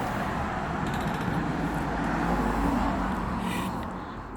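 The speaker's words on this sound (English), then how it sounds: "Friday afternoon traffic." Steady road traffic in a town centre on a Friday afternoon, a continuous broad rumble of passing cars and heavier vehicles at moderate distance, easing slightly toward the end.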